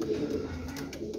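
Pigeons coo in low, soft, rolling calls close by, continuous throughout the short stretch.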